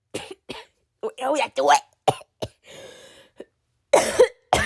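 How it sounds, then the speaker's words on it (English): A daily coughing fit: several sharp, close coughs in bursts with pauses and a throat-clearing rasp, mixed with brief spoken words. "I'm just having my daily coughing fit."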